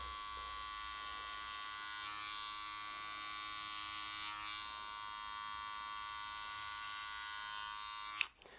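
Electric hair clipper buzzing steadily during a two-block haircut, a close, even hum with slight shifts as it moves through hair, ending in a sharp click and a brief trailing sound.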